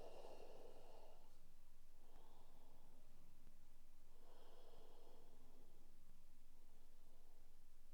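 Slow, deep breaths during a yoga twists flow class, drawn in and let out audibly close to the microphone in a few long cycles over a faint steady hiss.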